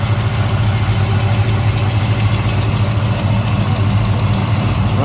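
A 1955 Chevrolet Bel Air with a fresh 355 V8, 650 double-pumper carburetor and electronic ignition idles steadily and loud up close, a low rumbling burble with a fast regular ticking pulse throughout.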